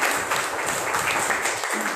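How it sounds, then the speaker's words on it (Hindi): A church congregation claps together during a Hindi-language worship service, a dense, steady patter of many hands that holds evenly throughout with no pauses. "आइए प्रभु यीशु मसीह का धन्यवाद दें ताली बजा के, उसको धन्यवाद करें कि आप ठीक हैं।"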